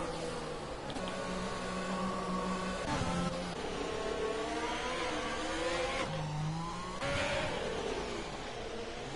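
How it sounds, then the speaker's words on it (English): In the Monaco round of an F1 esports racing game, an AI race car leaves the pit lane with a loud, steady engine whine that climbs and shifts pitch through several gear changes, with no talk. "that'll just be Duke's AI car just going out of the pit lane"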